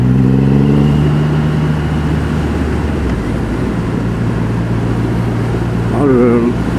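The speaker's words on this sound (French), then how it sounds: "Oh, ce bruit, c'est l'échappement d'origine ça." A vehicle's original stock exhaust roars loudly, with a steady engine drone broken by tonal rises and falls in pitch at the start and again near the end.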